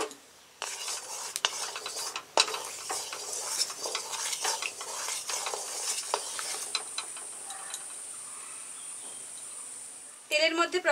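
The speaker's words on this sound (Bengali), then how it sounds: "কড়াইতে সর্ষের তেল দিয়ে দিচ্ছি, আজকে রান্নাটা আমি সর্ষের তেলেই করব।" Mustard oil heats in a wok for a pumpkin ghonto, giving a steady close hiss of sizzling with scattered scraping clicks throughout and a louder bubbling burst near the end.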